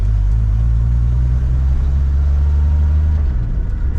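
A 1957 Chevy drives in gear with a loud, deep, steady engine rumble heard close, low tones holding throughout and shifting slightly near the end, no voices over it.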